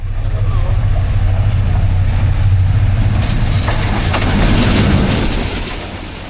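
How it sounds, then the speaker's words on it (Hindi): A train passes at speed through a station in Pakistan where the Karakoram Express crosses, a loud continuous rumble and rush of wheels and wagons building and then easing off near the end. "स्पीड से गुजरती ट्रेन की आवाज़ में एक नशा था जो आज भी महसूस हुआ है"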